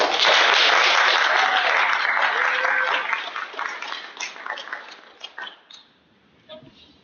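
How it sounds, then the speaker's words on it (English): Audience applause for student government presidential debate candidates, steady and full for about four seconds, then thinning into scattered claps that fade out near the end. "Let's give the candidates a round of applause."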